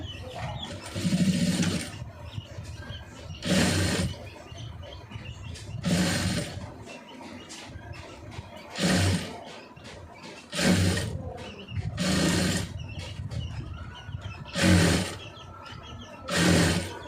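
A sewing machine stitches along the edge of a star-shaped neckline, running in repeated bursts of about a second each, separated by short pauses, loud and close.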